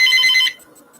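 A mobile phone rings loudly with a bright electronic tone for about half a second, then cuts off abruptly, leaving only faint low background noise.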